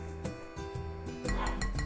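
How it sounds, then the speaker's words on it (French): A utensil stirring and scraping in a bowl of melted milk chocolate with hazelnut paste, giving short clinks and knocks close up, growing busier toward the end. "On mélange bien."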